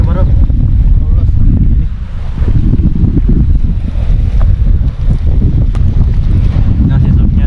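Strong wind buffeting and roaring close by in heavy gusts, with the rush of water underneath, constant and loud throughout.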